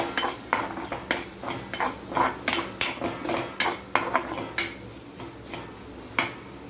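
Onion, garlic, black pepper and chili powder being stirred in a pan, a spoon scraping and tapping against the metal in steady, close strokes with a faint sizzle underneath.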